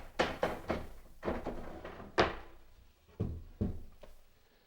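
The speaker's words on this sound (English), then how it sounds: "Put the drawer back in again." A wooden drawer slid back into a newly built cabinet, giving a series of close, sharp knocks and thunks in an irregular rhythm, each with a short decay, and no voices.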